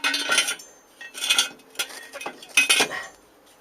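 Metal tools for an ABS speed sensor repair on a W210 Mercedes E-Class are handled. Several bursts of metallic clinking and rattling come close, separated by short pauses.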